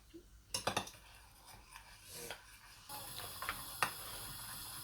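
Egg batter with red chili being whisked in a bowl, utensil clinking and scraping against the sides in irregular bursts, close and fairly quiet.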